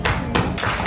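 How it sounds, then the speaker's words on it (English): Audience applause at a first birthday celebration event for a one-year-old, a dense burst of clapping that swells in waves through the short moment, close and fairly loud. "A round of applause."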